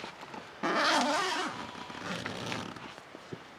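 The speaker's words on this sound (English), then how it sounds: "the zippers work really well on this tent" A tent zipper is drawn in one quick pull, a short raspy burst followed by fainter rustling and handling of the tent fabric, close by and quiet.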